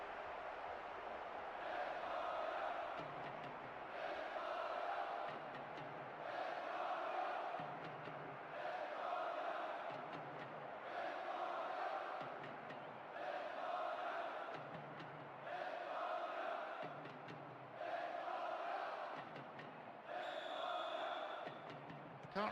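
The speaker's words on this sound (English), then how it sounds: "The capacity crowd getting behind their team." Stadium crowd noise from a PES 10 World Cup match between Spain and Argentina: a loud, sustained roar that swells in regular waves, like rhythmic chanting, continuous through the clip with no talk over it.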